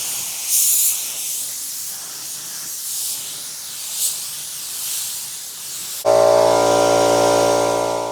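A spray gun coats a carbon fiber diffuser for an E46 M3 in Laguna Seca blue, with soft hissing bursts of paint spray that give way abruptly to a loud, steady mechanical hum near the end.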